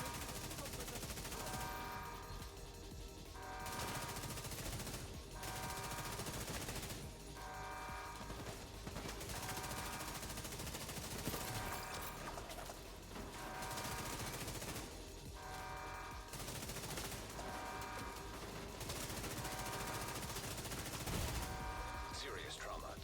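Sustained gunfire and fusillade from an online shooter match in The Division 2, steady loud repeated volleys with mechanical clatter, under an ongoing dense game soundscape with no clear talking.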